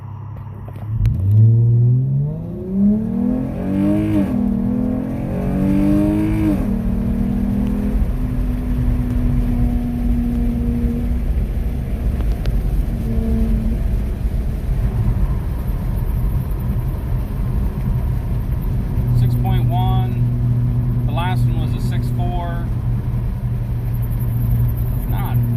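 A Dodge Challenger with new Ripp coil packs installed makes a 0-60 pull, the engine note climbing through rising gear sweeps, then cruising in a steady drone, heard from inside the car with talking throughout.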